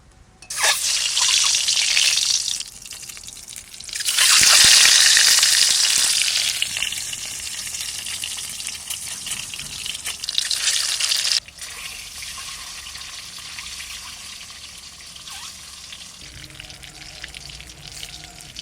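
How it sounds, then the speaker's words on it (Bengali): Cut home-raised duck eggs dropped into hot oil, a loud hissing fry that surges in two bursts and then settles into a softer, steady crackle, close up with no speech. "ডিমগুলো এবার কেটে কেটে তেলের মধ্যে দিয়ে দেবো"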